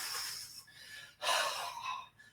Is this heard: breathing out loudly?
yes